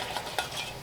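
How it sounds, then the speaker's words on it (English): Spoon or whisk stirring cornstarch slurry into a beef stroganoff sauce, a short soft scraping swirl with one brief clink, quiet and close. "give your cornstarch slurry another stir before you add it"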